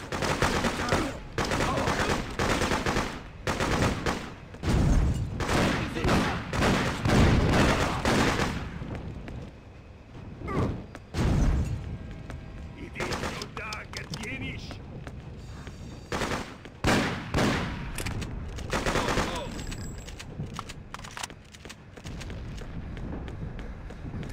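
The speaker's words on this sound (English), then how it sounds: "Cover, we're taking fire!" Bursts of rapid gunfire from the Freedom Fighters video game crackle in repeated volleys, loud, dense machine-gun-like strings in the first half, then sparser shots and quieter stretches.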